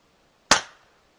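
A single sharp gunshot, close and loud, with a quick decaying tail.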